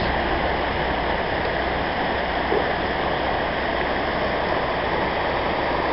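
Water on the River Erin rushes in a steady, loud, broadband wash with no voices and no breaks.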